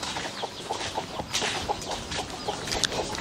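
Chickens clucking steadily around a rural family home, with a dense run of short overlapping clucks and calls from a nearby flock that carry throughout with no talk over them.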